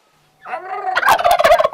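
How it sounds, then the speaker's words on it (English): Turkeys on a self-sustaining farm gobble loudly and close by. A rising call is followed by a rapid, rattling burst of gobbles. "We have also turkeys, which we use for high protein."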